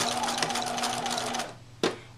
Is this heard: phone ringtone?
no